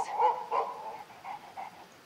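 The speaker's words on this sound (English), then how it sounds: "one very spoiled dog for observation, and he reacts to your voice every time" A dog barking in the hunting video game Way of the Hunter, a few soft muffled barks and yips in an uneven sequence, fairly faint with no talk over them.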